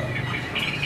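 Caged hwamei songbird singing, a close, steady bright warble of short repeated notes over a low background hum.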